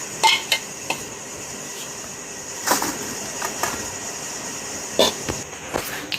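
Ground rice and peanut flour mixture being moved onto a plate, with a series of sharp metallic clinks and taps of a spoon against the vessel and plate, spaced irregularly and close.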